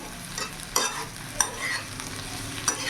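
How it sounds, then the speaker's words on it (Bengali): Okra and potatoes frying in a pan with a soft steady sizzle, punctuated by several sharp scrapes and knocks of stirring, close and fairly quiet, with no talking. "দু থেকে তিন মিনিট আমি এইভাবে ভাজা ভাজা করে নিয়েছি"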